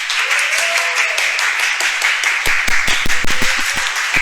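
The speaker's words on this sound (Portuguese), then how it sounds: "Vamos dar uma salva de palmas aqui para os dois professores." A small group claps for two teachers at the close of a podcast about eclipses. Hissy, fairly loud applause gives way to a few sharper, closer individual claps in the second half.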